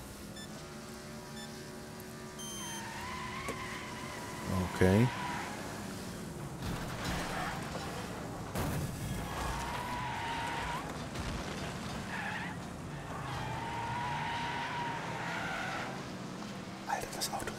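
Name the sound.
car driving in a racing video game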